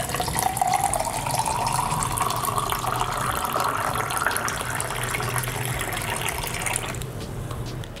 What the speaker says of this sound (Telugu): వేసుకున్న తర్వాత మనం లెమన్ జ్యూస్ని దీంట్లో వేసుకుందాం.